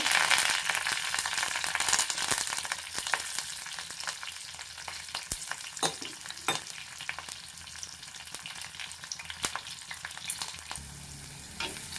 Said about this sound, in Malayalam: സവാള ഇട്ടത് മൂക്കണ്ട വഴന്നാൽ മാത്രം മതി